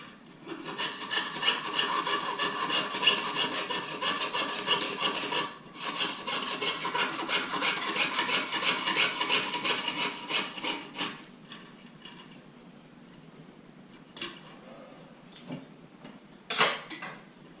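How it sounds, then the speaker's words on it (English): A jeweller's saw cuts through soldered silver pendant pieces in a rapid, steady rasping stroke rhythm for about eleven seconds. After a brief pause partway through, the sawing stops and a few scattered clicks and scrapes of metal follow. "and we'll saw these pieces out."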